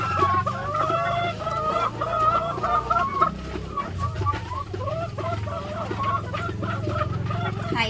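Egg-laying hens cluck and cackle repeatedly at close range, a busy overlapping chorus of birds, with a voice speaking over part of it.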